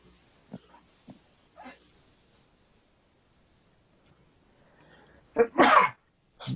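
A single loud sneeze bursts out near the end, following a few faint sniffs and soft breaths in an otherwise quiet room.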